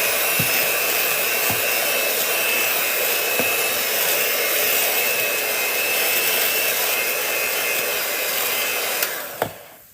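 An electric mixer whirs steadily as it beats pineapple upside-down cake batter, a loud continuous drone with a few faint knocks against the bowl, cutting off abruptly at the end.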